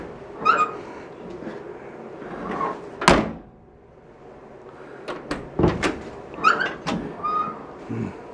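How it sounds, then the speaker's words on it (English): Car doors on a 1958 Chevy Bel Air being opened and shut: a series of sharp metallic clunks and latch clicks, one solid slam followed by several quicker knocks, over a low background hum. "Let's check the doors on this side."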